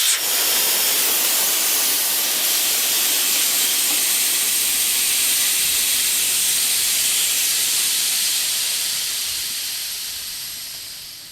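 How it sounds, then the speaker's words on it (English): Air and sealant rush out of the valve stem of a 30-year-old bike's farm tire, a loud continuous hiss from close by that holds steady for about ten seconds before slowly tapering. "When I pull that out, the valve stem I had to pull out, it's all gonna blow out"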